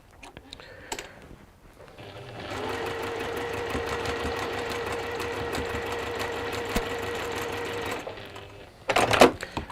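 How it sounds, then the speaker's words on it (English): A sewing machine runs steadily for about five seconds, stitching two quilt pieces together with a quarter-inch seam, then stops, followed by a few brief clicks and handling noises. "So we're sewing those two pieces so that it looks sort of like a Y shape through the middle."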